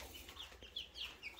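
A hen clucks softly in a henhouse as she settles to lay, a few short, faint, scattered clucks over quiet background.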